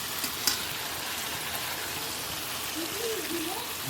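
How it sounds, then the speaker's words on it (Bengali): Egg frying in a pan of spiced masala, a steady close sizzle and crackle running throughout with a brief sharp pop near the start. "ডিমটা দিয়ে কষিয়ে নিই খুব সুন্দর লাগবে"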